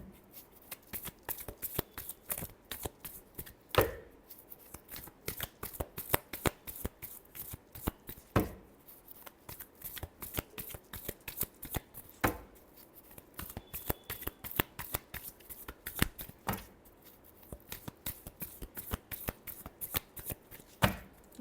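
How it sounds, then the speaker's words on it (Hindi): Tarot cards riffled and shuffled by hand in quick repeated bursts of crisp flutters and slaps, close and fairly loud, with brief pauses between shuffles and no talking. "Last shuffle."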